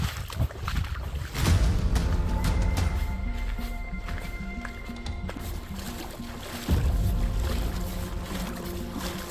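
Someone wading through deep water in waders sends up heavy splashing and sloshing surges, close and loud, with gusts of wind noise and no talk.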